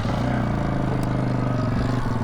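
A Stark Varg electric motorcycle is ridden with a helmet-mounted view, giving a steady, loud tonal whine over rushing wind and mechanical hum, with no speech.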